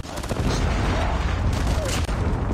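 MSMC submachine gun fire in the mobile shooter Call of Duty Mobile comes through as a dense, continuous rattle of rapid shots, loud and close, with the game's background noise filling in behind.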